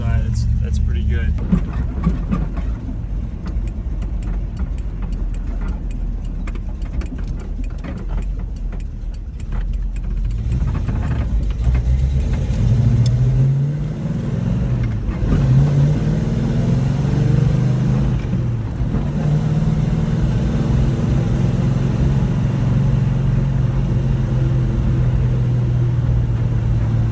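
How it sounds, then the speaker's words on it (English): A 1971 Dodge Charger V8 with a rebuilt engine and pistol-grip manual, cold with good oil pressure, runs loud and steady at a smooth idle with several rising revs partway through, alone without talk. "Car idles really smooth."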